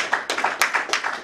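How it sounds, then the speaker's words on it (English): Sparse hand claps, about eight crisp, close strikes in quick succession, from a small group honouring a crew member at a drama premiere, with no voices. "A big round of applause for him."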